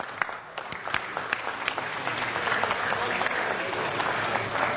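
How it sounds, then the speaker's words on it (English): Applause at a city council meeting: a few scattered claps at first that build into steady, moderate clapping from the chamber audience, heard at some distance. "let's give them a round of applause."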